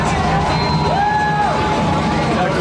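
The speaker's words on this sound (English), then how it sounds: "The crowd cheering them on." Crowd noise from spectators at a high school football game between Clifton and Hackensack, a steady roar of cheering and babble with a whistle-like tone sweeping through, continuous and fairly loud.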